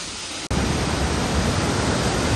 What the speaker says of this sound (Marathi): हा आहे मावळचा मावच्या गावाजवळ असलेला हा धबधबा आहे